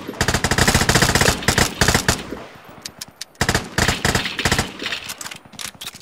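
Rapid automatic gunfire in the video game Vigor, loud bursts of fast shots separated by short pauses, with more scattered shooting in the later part.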